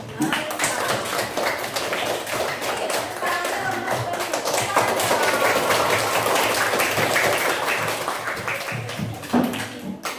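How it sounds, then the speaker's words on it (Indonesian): An elementary school class claps hands together, a steady run of fairly close, rapid claps that continues for about ten seconds, with children's and a teacher's voices mixed in. "Yuk, pintar, tepuk tangan buat"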